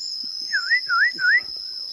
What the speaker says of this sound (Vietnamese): Có tiếng chim huýt cô và tiếng khú nữa. Tiếng khú nó cũng đang hót.